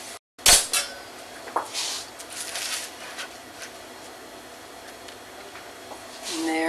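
A wedge is cut from a hot pizza fresh from the oven, with sharp metal utensil clinks against a pan and scraping taps spread over several seconds, while someone talks.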